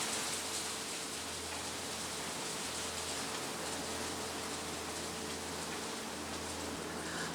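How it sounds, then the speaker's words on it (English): Hail pelting down beside the River Thames, heard from shelter under a pier, as a dense, steady hiss of pattering ice with a low rumble beneath, constant and enveloping throughout, with no voices. "Just look at that hail."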